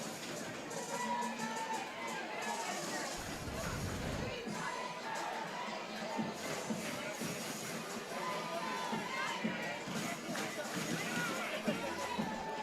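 Steady crowd noise from a packed stadium at a high school baseball game between Rouse and Dripping Springs, with chatter and cheering blended into a constant wash, and a brief low rumble partway through.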